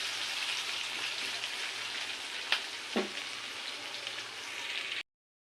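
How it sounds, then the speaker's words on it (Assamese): Ginger and garlic fry in a pan with onion, giving a steady, dense hiss of sizzling oil broken by a couple of brief spoon taps, then cutting off abruptly. "ভালদৰে কেঁচা গোন্ধটো নোযোৱালৈকে অকণমান টাইম ভাজি থাকিম।"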